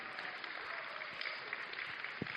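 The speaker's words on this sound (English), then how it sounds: "big round of applause for the speakers" An audience applauds the speakers at a talks event, a faint, distant, steady patter of many hands clapping.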